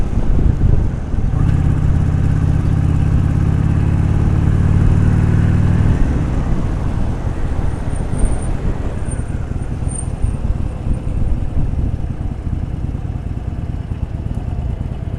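A motorcycle engine drones steadily while riding across the valley in Los Angeles, with heavy wind rush throughout and a louder low rumble early on that eases as the ride continues.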